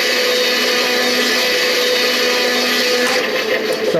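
A model train log loader accessory pulling in a log, making a steady, loud, close mechanical whir that holds evenly throughout.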